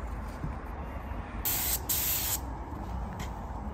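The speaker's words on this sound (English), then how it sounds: "put it in the gun, and we'll paint the wheels" A paint spray gun coating tractor wheels, with short bursts of hissing spray standing out over a noisy background, the loudest stretch coming mid-clip.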